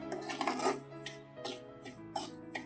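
Semolina (rava) stirred and roasted in a pan, heard as a series of close metallic scrapes and clinks of a spoon against the pan at an uneven rhythm, with no voices.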